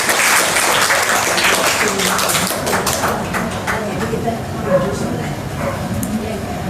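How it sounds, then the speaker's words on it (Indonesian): Audience applause at an Indonesian community gathering, steady dense clapping throughout, with some voices and background chatter mixed in. "Kita tepuk tangan dulu dong Ibu Bapak"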